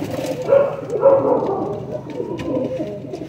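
Pigeons coo nearby in soft, repeated throaty phrases that overlap one another, with a faint bark in the distance.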